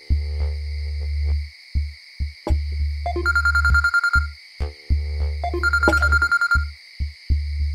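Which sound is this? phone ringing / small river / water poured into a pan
phone ringing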